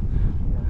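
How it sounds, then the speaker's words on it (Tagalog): Strong wind gusting across a mountain summit on a hike, a constant low rumble buffeting the microphone for a brief moment. "Dito malakas ang hangin kaya dito muna kami nagpahinga konti."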